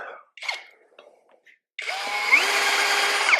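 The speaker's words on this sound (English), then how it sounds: "That is a dull old drill bit." A few short taps and knocks, then a power drill with a dull bit whines loudly and steadily, its pitch shifting slightly as it grinds in, enlarging holes in a 1956 International.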